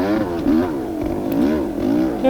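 A dirt bike engine on a woodland trail, with the throttle pulsed on and off so the revs rise and fall in repeated waves. It is loud and close, with no talk.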